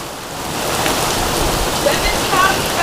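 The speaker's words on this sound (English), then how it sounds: "Scared of a little rain." Steady rain pours down in a continuous broadband hiss on a Florida day, close and fairly loud throughout, with no break in the downpour.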